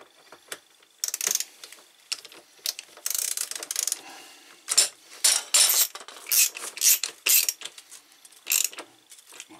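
Ratchet wrench working the rear wheel bolts of a BMW R1200RT motorcycle, a rapid series of close, sharp metallic clicking bursts in an irregular rhythm, alone without talk.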